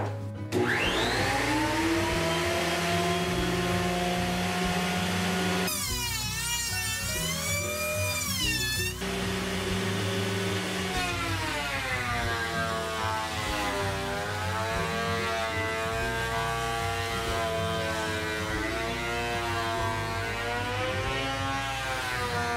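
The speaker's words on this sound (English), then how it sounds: "I think this planer should be a pretty solid test." An electric wood planer powered by a Dabbsson DBS2100 PRO power station, with a steady loud whine and harmonic hum that shifts in pitch as the blade load changes during passes, alone without talk.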